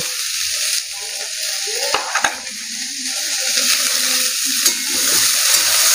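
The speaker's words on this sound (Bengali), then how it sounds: "তরকারিটা আমার মোটামুটি ভাজা হয়ে গেছে হালকা" Mixed vegetables frying in a pan for a restaurant-style Kolhapuri mix veg curry, a steady soft sizzle with a couple of sharp clinks of a utensil partway through, close and moderately loud with no talking.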